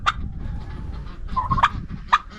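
Turkeys on a farm let out short gobbling calls, two or three bursts close by, with low rumbling background noise between them.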